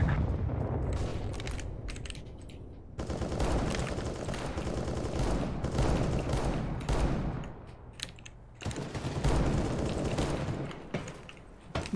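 Rapid gunfire in the video game PUBG, loud bursts of automatic shots in dense volleys separated by short lulls.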